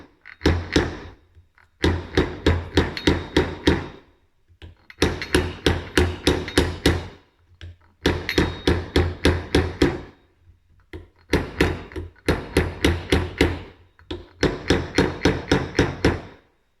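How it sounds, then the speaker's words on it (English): A small ball peen hammer taps a Yamaha 1700 motorcycle front fork assembly in quick, even bursts of ringing metallic blows, each burst separated by short pauses, close and loud. "I had taken my little ball peen hammer and I was able to let it kind of ride on the tape and just kind of tap it down"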